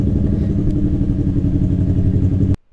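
A motorcycle engine idles steadily with a low, rumbling throb, close by, then cuts off abruptly near the end.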